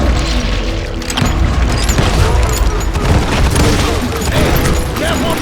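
Gunfire from Call of Juarez: Gunslinger rolls on in dense, loud, overlapping booms and shots, with busy battle noise and some game voices underneath.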